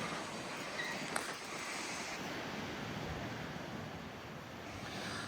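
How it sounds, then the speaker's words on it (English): Pacific Ocean surf washing onto the shore near a natural rock bridge close to Santa Cruz, California: a steady, broad roar of waves with wind buffeting the microphone, continuous and fairly distant, with no voices. "Pacific Ocean."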